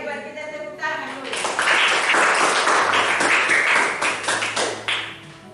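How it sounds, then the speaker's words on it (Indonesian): Hands clapping in a classroom: a short spoken voice opens, then a dense burst of group applause rises and holds steadily to the end. "Hebat, kita tepuk tangan dulu."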